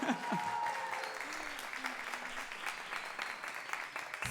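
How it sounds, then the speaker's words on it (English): Audience applause at a Pass It On celebration held at the New Orleans Museum of Art, a dense, steady wash of many hands clapping that carries through the whole stretch, with a host's voice briefly heard over it near the start. "Y'all start clapping your hands for Chastity."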